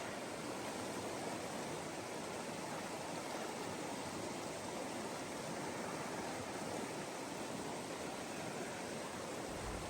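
Rushing water from a wilderness river at a trail crossing on the Appalachian Trail, a constant, dense, even roar filling the whole stretch with no voices.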